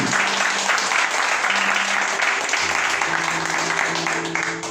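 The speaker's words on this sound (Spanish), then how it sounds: "Démosle el mejor de los aplausos a Él" A church congregation at a Sunday school service applauds together, a dense, steady wash of clapping lasting several seconds with a low hum underneath, tapering slightly at the end.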